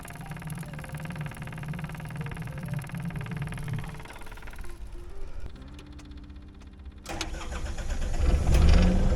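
A Yanmar SV26 mini excavator is started during an oil change. The starter cranks with a steady rhythmic whir, goes briefly quiet, then the diesel catches and settles into a loud, close, knocking idle that swells toward the end.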